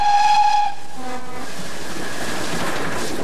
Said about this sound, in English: the loco was put to its sternest task, climbing the long bank to Chorley Wood